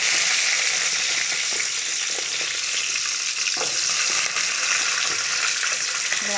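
Shallots, garlic cloves and whole black peppercorns frying in hot oil for a Tamil kathrikai and murungai poricha kulambu, a loud, steady sizzle with scattered pops and crackles throughout.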